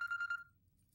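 A telephone rings in a dubbed Bangla action movie scene, with a few rapid trilling electronic bursts close by and then silence.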